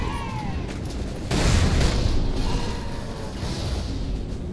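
A charged plasma shot fires in Halo 3 as a single loud broadband burst, about a second and a half in, over a constant busy layer of game noise and effects that fades slightly afterward.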